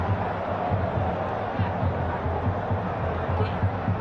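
Football stadium crowd at a friendly match in Manaus, a dense, steady roar of thousands of voices filling the background without distinct peaks, under no clear foreground talk.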